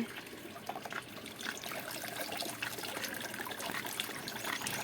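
Wet mud dripping and trickling off as it is rinsed with water, a steady close splashing and pattering that runs without a break.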